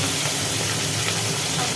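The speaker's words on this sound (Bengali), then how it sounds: "নুন হলুদ মাখিয়ে রাখা হয়েছিল বাটা মাছগুলো, এই বাটা মাছগুলো এখন ভাজা হচ্ছে।" Bata fish coated in salt and turmeric fry in hot, smoking oil, a dense steady sizzle and hiss that continues unbroken throughout.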